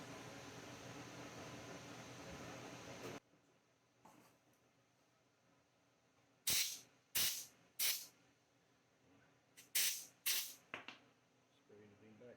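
Compressed-air spray blowing out a Dodge 5.2/5.9 roller lifter during cleaning, several short sharp hissing blasts close up, in quick bursts after a stretch of steady background noise.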